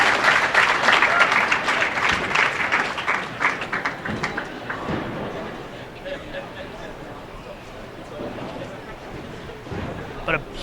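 Crowd applause rolls through a bowling arena at the Team USA Trials stepladder finals, loud at first and gradually thinning, with a commentator talking over it.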